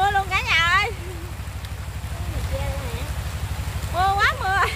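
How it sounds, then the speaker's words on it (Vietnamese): Heavy rain falling in a steady, dense hiss with a low rhythmic thrumming underneath, close and fairly loud, while people talk over it at the start and end. "Mưa quá mưa."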